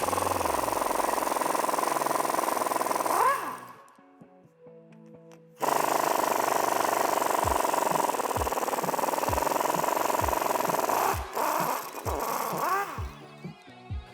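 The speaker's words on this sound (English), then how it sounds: "now we're going to remove the bottom bolts for our strut. That's securing it to our lower control arm" A socket wrench on a Silverado suspension ratchets and clicks while loosening the lower strut bolts at the control arm, a series of short sharp ticks over a steady hum, pausing briefly midway.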